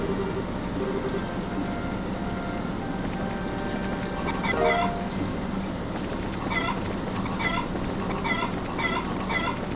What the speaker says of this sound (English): I like harassing the chickens.